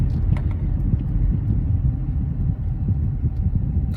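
Inside a moving car, a steady low road rumble and engine drone fill the cabin, continuous and close with no speech.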